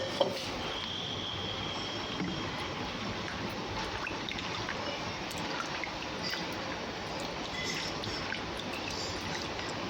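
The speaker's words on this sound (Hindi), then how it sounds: "ये यहाँ पे मैं अच्छे से धो रही हूँ ताकि जितना भी वाइट पानी है वो निकल जाए सारा।" Water is poured over soaked food being rinsed to wash off the cloudy white water, producing a steady, even splashing stream that stays close and constant.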